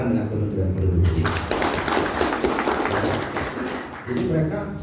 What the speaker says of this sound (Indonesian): Untuk itu kita tepuk tangan dengan Kementerian Perindustrian